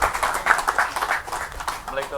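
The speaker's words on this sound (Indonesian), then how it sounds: "Kami persilakan beri tepuk tangan yang meriah." Audience clapping to welcome a guest speaker at an Indonesian agriculture ministry talk event, rhythmic applause mixed with voices and talk over it.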